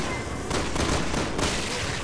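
A shotgun fires at enemies in Resident Evil 6, its blasts arriving as a dense, close, loud barrage of overlapping bangs with a couple of sharper reports.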